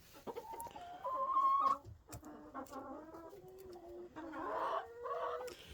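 A hen in a coop clucks and squawks in close, loud bursts, rising into a drawn-out cackle before a pause, then more clucking and a rougher call toward the end.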